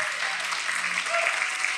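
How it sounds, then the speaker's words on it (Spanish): A church congregation claps together in brief, dense applause that holds steady for a moment, loud and close, with no voice over it. "todos los aplausos de esta gente son para ti"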